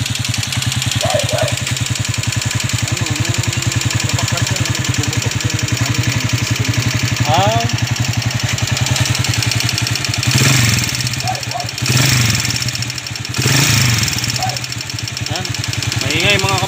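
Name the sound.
noisy motorcycle engine idling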